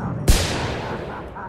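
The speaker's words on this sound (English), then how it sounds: "load the mortar" A single loud mortar shot in the video game Project Brazil booms sharply near the start, followed by a long rumbling decay.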